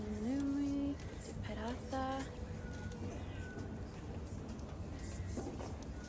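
A cat in the game Crusader Kings 3 gives a drawn-out meow followed by a couple of shorter mews over a murky ambient background.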